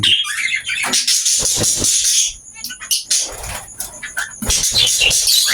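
Pet breeding birds, a heavy pied and a normal gray, calling close by in loud, dense bursts of chirps and whistles that fill the whole stretch, with a brief quieter lull midway.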